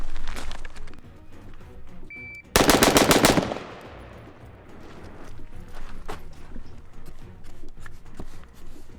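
A handgun with an EOTech sight fires six rapid shots at seven yards, a tight burst of sharp, loud cracks bunched together, with quieter range noise and distant pops before and after.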